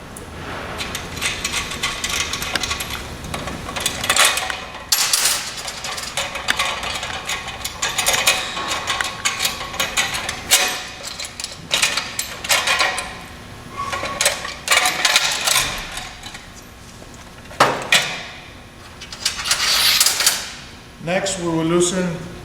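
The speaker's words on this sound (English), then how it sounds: "We'll begin by removing the coupler guard." Bolts and the coupler guard come off a Bell & Gossett 1510 pump, producing repeated metallic clanks, scrapes and rattles of varying loudness close by, with brief pauses between handling sounds.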